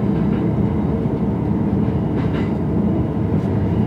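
A JR E231 series train runs between Totsuka and Ofuna, heard from inside the Green car as a steady, loud low rumble of wheels and car noise with faint clatter throughout.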